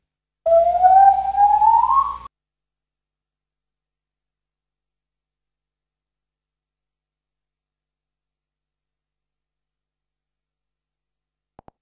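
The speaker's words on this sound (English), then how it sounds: "Gibbon." A gibbon calls once, a single rising whooping note lasting under two seconds, followed by a long silence.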